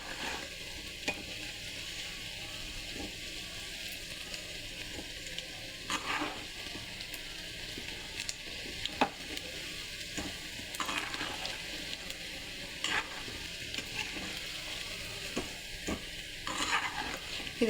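Pakoda fry in oil over a medium flame for a wedding-style batch, a continuous crackling sizzle broken by repeated stirring scrapes and light clinks of a utensil against the pan.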